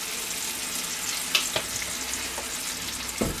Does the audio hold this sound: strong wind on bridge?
no